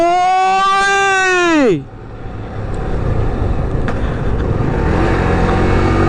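An ambulance overtakes on the road, its loud siren tone sliding sharply downward as it passes close by. A broad, steady rumble of road and traffic noise follows for several seconds.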